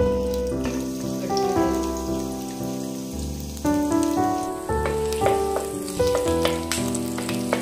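Ginger sizzles in two spoonfuls of hot oil in a pan while cooking Hakka noodles, a steady crackling fry under prominent background music.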